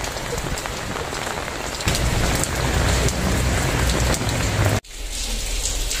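Heavy typhoon rain pouring down on surfaces during flooding, a dense steady roar that swells louder midway, then cuts out briefly before resuming, with no voices.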